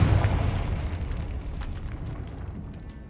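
A Confringo spell explosion in the Hogwarts Legacy video game bursts loud at the start, a deep booming blast that decays into a long, rumbling crackle.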